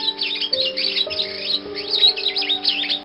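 Small green monk parakeets, or Quaker parrots, chatter in a busy flock, with continuous raspy squawks and chirps close by, over a steady tonal background.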